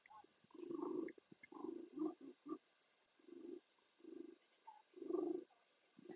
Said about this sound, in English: has a loud purr